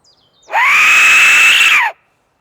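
Recorded scream played back during a night ghost hunt in Cannock Chase forest: a single loud, sustained high-pitched shriek lasting over a second, alone and close.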